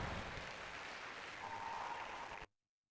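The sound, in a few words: applause for the girls' indoor rowing race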